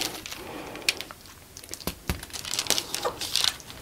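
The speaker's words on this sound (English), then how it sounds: "And I'm gonna add a few more pieces of tape." Tape pieces are torn and pressed onto a sequin pillow cover, giving close, quiet crinkling and scratchy rustles in short irregular bursts with a few sharper crackles.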